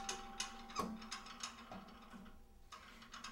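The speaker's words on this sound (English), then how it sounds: "Okay, now when you change to standing, lighten the spring resistance. Change to a blue spring," A Pilates reformer spring is swapped for a lighter blue one, giving faint, close metallic clicks and clunks of the spring hooks and carriage gear in an irregular sequence, with no voices.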